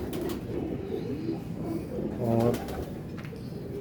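Soft, low cooing from a Teddy pigeon swells briefly in the middle, with a voice talking around it against a murmuring background.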